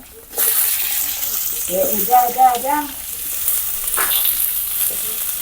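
Vegetables frying in a pan with a steady loud sizzle, stirred now and then, while someone speaks briefly over the crackle.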